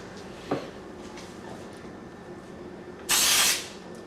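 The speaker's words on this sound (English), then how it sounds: "Just go from a farther away distance and spray the entire thing." A spray can hisses over a cake of petits fours, one short puff followed by a longer, louder burst of spray, close by in a quiet kitchen.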